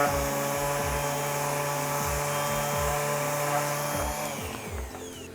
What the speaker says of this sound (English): turn your sander on, and just do gentle,